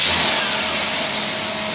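An engine with a freshly rebuilt Quadrajet carburetor runs on a dynamometer, giving a steady, loud mid-pitched drone with a faint rising rev and a constant whine, close up and with no voices.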